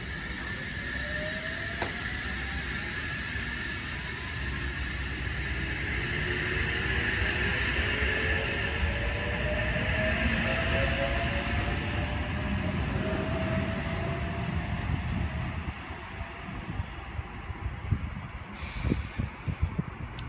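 A Sydney Trains H-set pairing departs Booragul station on the Newcastle line, a steady rising rumble and hum of traction motors building and holding for about twenty seconds, heard up close from the platform with no talk.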